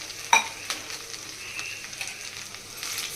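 Vermicelli roasting in a pan for upma gives a soft dry sizzle and scraping stir, with a sharp clink of a utensil near the start and light stirring strokes afterward, no voices.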